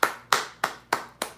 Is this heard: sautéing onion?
no